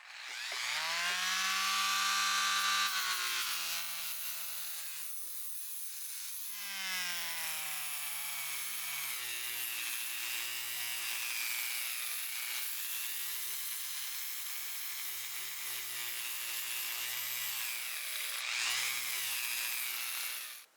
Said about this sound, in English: Okay, now I have a 150 grit disc on.